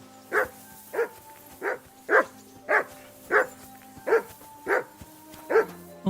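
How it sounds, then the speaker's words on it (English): A dog in the medieval video game Kingdom Come: Deliverance 2 barks about nine times at a steady, even pace, each bark loud and close, with no other sound between them. "Henry, call that dog to heel"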